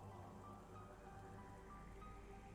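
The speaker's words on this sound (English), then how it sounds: "It's a kind of rainy place." Steady rain falls on the Talon Overworld in Metroid Prime, a soft continuous hiss of drops with a faint low rumble underneath, even and unbroken throughout.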